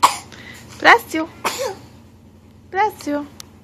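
A single sharp sneeze bursts out, followed by a short voice; another quick vocal burst comes a moment later, all fairly close and clear.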